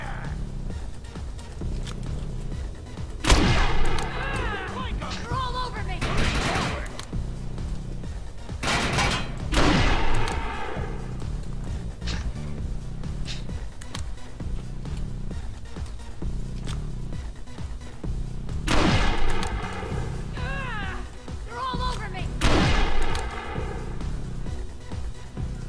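Gunfire in the video game Defiance, several sharp shots and bursts spaced through a busy game soundtrack, loud and close, with no voices.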